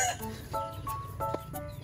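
Chickens cluck in short, repeated bursts on a farm, close by and fairly loud over a low background hum.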